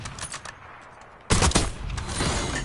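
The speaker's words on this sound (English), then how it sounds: "somebody's using pistol" Rapid pistol gunfire in Call of Duty BO6 erupts partway through, a loud burst of closely spaced shots following a quieter stretch of game noise.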